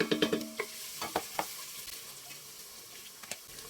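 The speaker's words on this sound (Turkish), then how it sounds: "Soğan koyup biraz kavuracağım." Onions frying in oil in a soup pot, with a run of quick stirring scrapes and clatters early on and a soft sizzle beneath that fades to quieter sporadic knocks, close and without talk.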